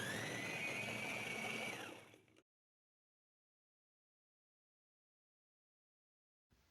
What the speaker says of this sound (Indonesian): Haluskan semua bahan ubi ungu yang sudah dikukus.